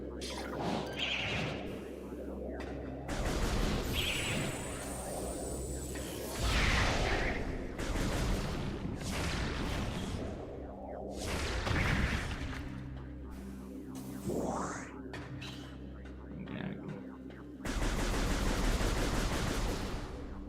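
Wave cannon fire from Metroid Prime Remastered in the Phendrana Drifts, heard as repeated loud energy blasts and bursts with whooshing sweeps and a low hum between shots.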